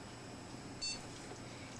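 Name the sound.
computer power-on beep, Asus P3B-F system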